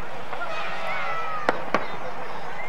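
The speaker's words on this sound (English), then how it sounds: "as we look at the fireworks" Fireworks burst over a Christmas parade on a snowy evening, two sharp cracks about a quarter second apart rising above a continuous bed of crowd noise and ambience.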